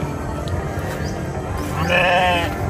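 Sheep bleating at a small farm on Samal Island, a wavering, fairly loud cry rising near the end over steady background noise, with no talk.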